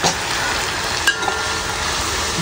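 Chopped onion with blended ginger, garlic and galangal frying in a pan, a steady close hiss of sizzling oil with a couple of small clinks.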